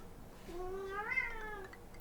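A cat meows once in a drawn-out, rising and falling call, fairly close and clear against a quiet background with no talking.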